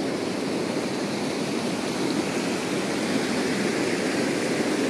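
Cachoeira dos Couros, a waterfall in Chapada dos Veadeiros near Alto Paraíso de Goiás, roars with a steady, loud, unbroken rush of falling water throughout, close by and without voices.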